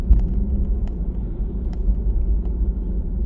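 Mercedes-AMG E53 Hybrid pulling away under throttle, a smooth low rumble heard from the cabin that holds steady with faint road noise and a few light clicks, no talking.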